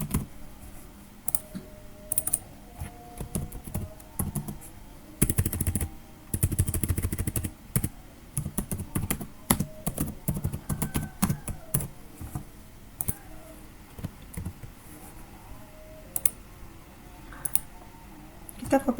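Typing on a computer keyboard to enter a database command, with irregular bursts of close, crisp key clicks and louder clattering runs spread across the stretch, no speech.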